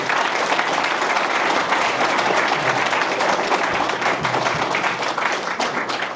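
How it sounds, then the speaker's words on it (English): Audience applause fills a candidate forum for mayoral and city council seats in Roswell, steady dense clapping throughout at full volume, sustained without a break for about six seconds. "let's give him a round of applause"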